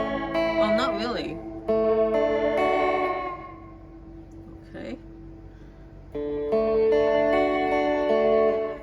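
Guitar notes ring through a Fender Reflecting Pool delay pedal with warbling, pitch-wobbling repeats that fade out, and someone briefly speaks between phrases.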